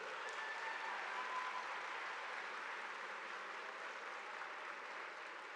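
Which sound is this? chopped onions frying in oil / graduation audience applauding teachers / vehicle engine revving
graduation audience applauding teachers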